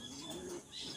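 Pigeons in a loft give a faint, soft cooing with low murmured tones and a few high chirps over a steady background hiss.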